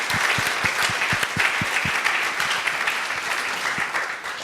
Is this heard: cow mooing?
no